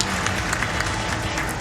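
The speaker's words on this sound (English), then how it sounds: "He deserves the second round of Great applause." Brief burst of audience applause during a live Sonic Adventure DX charity speedrun event, a dense crowd clapping steadily at moderate volume.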